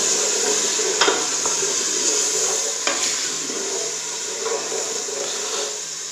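Spices with chicken powder, red chili and a little water are stirred and roasted in a pot, giving a steady close sizzle with scraping stir strokes throughout.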